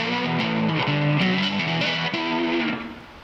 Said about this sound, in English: I've got a lot of distortion here.